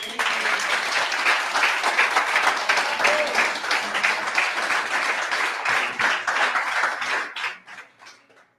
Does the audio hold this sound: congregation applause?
yes